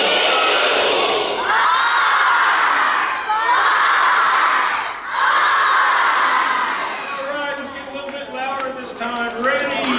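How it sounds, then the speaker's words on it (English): A whole school of children shouts a motto together in an assembly hall, three loud sustained crowd bursts followed by cheering and whoops. "we're going to say our motto all together as a school"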